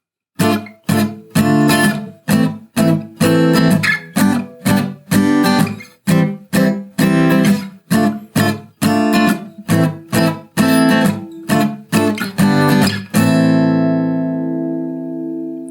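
Acoustic guitar barre chords are strummed in sharp, rhythmic bursts, each with a bright full ring. The strumming stops and a final chord rings out and fades.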